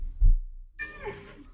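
A house cat gives a short meow after a brief low thump and a silent pause, the call rising with clear harmonics and trailing off, close and moderately loud with no talk.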